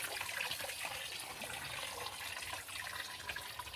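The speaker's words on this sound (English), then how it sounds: "I've got a hose connected to cold water, so I'll just pack it up with some cold." Cold water runs steadily from a hose into a bucket, making a continuous, close splashing rush that stays even throughout with no speech.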